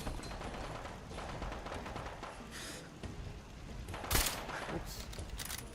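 Gunfire from the video game Fallout 4 comes as dense, overlapping bursts of rattling shots during a firefight, fairly quiet overall, with one sharper, louder crack partway through.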